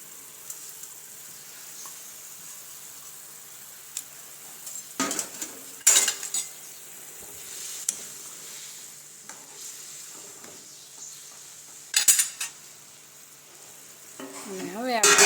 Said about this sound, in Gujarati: તો તેમાં આપણે આ ધોયેલી ખીચડી નાખી દઈશું